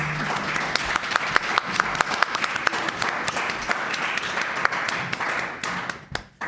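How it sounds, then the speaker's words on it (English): Audience at a live-streamed civic engagement event applauding participants, a crowd of hands clapping with distinct sharp individual claps standing out, steady for several seconds before fading near the end. "Can we have a round of applause for our participants?"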